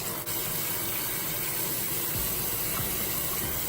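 Tap water runs steadily over a makeup brush being rinsed at a sink, a continuous close rushing splash that holds at an even level throughout.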